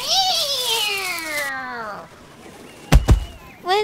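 A long meow slides downward in pitch, then two quick thumps and a brief rustle follow.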